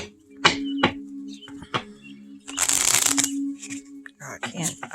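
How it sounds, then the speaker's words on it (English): Pocket-sized tarot cards are riffle shuffled, with a couple of taps and a quick fluttering burst of cards interleaving, close up, while a voice talks between the sounds. "Let's see if I can riffle shuffle."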